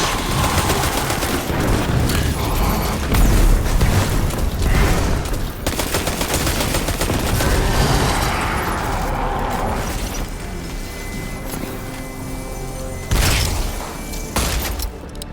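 Destiny 2 Scorch Cannon blasts and explosions roar in a dense, loud barrage of firing and booms that keeps going for over fifteen seconds, easing somewhat toward the end before a final burst.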